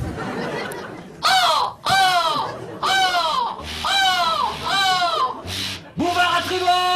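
A voice imitates seagull calls: a run of high, bright, descending squawks, about six cries in steady succession, loud and close.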